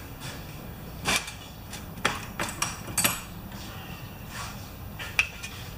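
A half-inch wrench clinks and knocks against metal while a carburetor on a 3.5 HP Tecumseh mower is worked on. There are a few sharp, scattered taps and clanks with quiet pauses between them.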